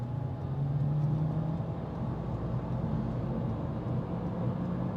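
A Toyota C-HR 1.2 turbo with CVT accelerates at full throttle from a stop, its engine a steady, muffled low drone heard from inside the cabin, holding a nearly constant pitch throughout.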